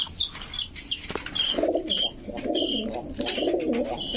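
Pigeons coo in low, throaty rolling phrases, several in a row, with sharper chirps and a brief flutter of wings nearby.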